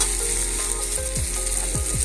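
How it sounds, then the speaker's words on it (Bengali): Fish oil and spices fry in a pan for a Bengali khosla shak chorchori, a steady close sizzle running throughout with a few soft stirring scrapes. "মাছের তেলটাও মশলাটার সাথে কি সুন্দর ভাজা হয়ে যাচ্ছে"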